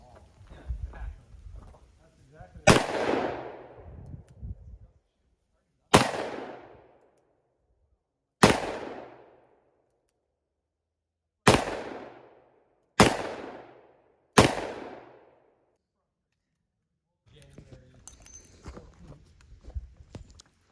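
Revolver fires six booming shots loading .357 Magnum and .38 Special rounds outdoors, unevenly spaced with ringing decays, while a person talks briefly before and after.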